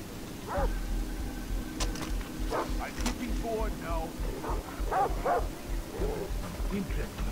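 A dog in the video game Far Cry 3 gives several short yips and barks at mid distance, scattered through steady game ambience with someone talking over it.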